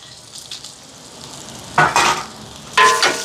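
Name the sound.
chilies sautéing in frying oil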